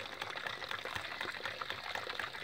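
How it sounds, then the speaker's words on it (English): A non-electric water pump in Trinidad running off a constant water source: a faint, steady watery rush with a quick repeating mechanical ticking throughout, no voices. "this is pumping water 24/7, 365 days a year, as long as you have a constant water resource"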